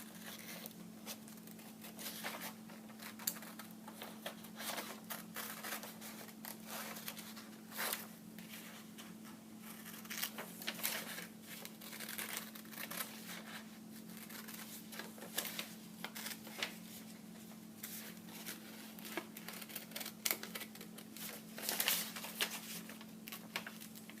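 Scissors cut out a paper figure close to the mic, with a quiet series of irregular snips and paper rustles over a constant low electrical hum, no speech.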